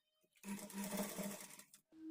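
A sewing machine stitches a blouse in one short, quick burst of rapid mechanical chatter lasting just over a second, close and clear, with quiet moments before and after.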